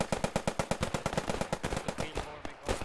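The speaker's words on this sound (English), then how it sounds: "We got a line of Americans firing on those Germans from the west" Rapid machine gun fire in a WWII battle video game, a fast regular burst of sharp loud shots rattling continuously for nearly three seconds, with overlapping distant gunfire.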